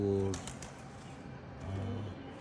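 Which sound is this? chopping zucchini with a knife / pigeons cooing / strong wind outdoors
pigeons cooing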